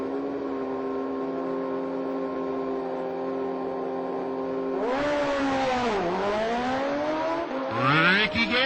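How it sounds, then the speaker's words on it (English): Supercharged race car at a drag strip, a sustained loud engine drone that suddenly swoops and rises in pitch as it accelerates away, with a second whining surge building at the end. "I think I hear a supercharger."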